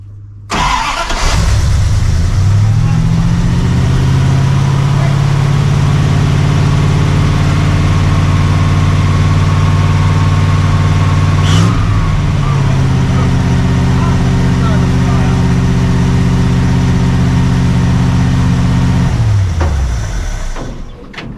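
A 1982 Dodge Ramcharger W150 engine starts and runs on heavy choke for about eighteen seconds, a loud, steady low rumble with a wavering pitch that sags midway, then it cuts out and dies.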